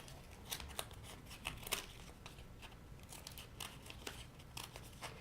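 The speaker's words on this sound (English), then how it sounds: "So now you're gonna cut your design, all right? So you can just cut the end off" Scissors snip through folded paper cut into a snowflake, producing soft, close crinkling and irregular cutting clicks in a loose rhythm, quiet throughout.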